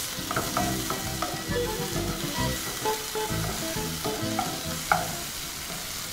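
Beef and mushroom stroganoff mixture being stirred in a hot pan, with a steady sizzle under repeated scraping and clinking of a utensil against the pan, close and fairly loud throughout.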